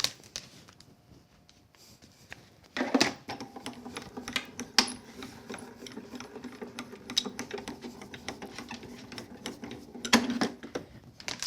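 A die cutting machine runs a card panel through, giving a steady mechanical whirring and clicking rumble for several seconds, close and moderately loud, with brief louder bursts at the start and end.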